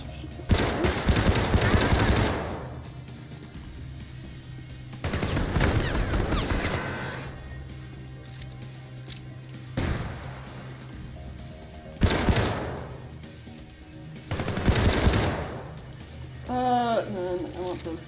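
Automatic weapon fire from the video game Syndicate comes in several loud, sustained bursts separated by short pauses, with quieter in-game sounds between them.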